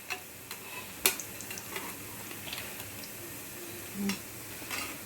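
Spinach fritters (palak bajji) turned over while deep frying in hot oil, giving a low, steady sizzle with scattered soft ticks and light clinks of a utensil, faint and without talk.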